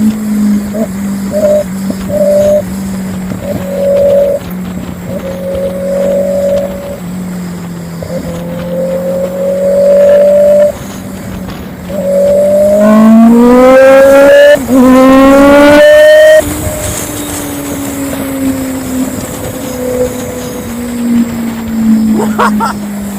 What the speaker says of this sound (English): you can hear the roughness on this bike.